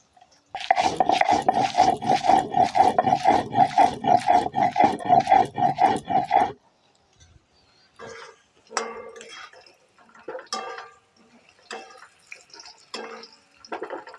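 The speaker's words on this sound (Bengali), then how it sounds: "ভাজা মশলাগুলো বেটে নিই" Roasted spices ground by hand on a stone slab (shil-pata) in a home kitchen, a rapid rhythmic rasping scrape for several seconds, then sparser, quieter scraping and rubbing strokes with pauses.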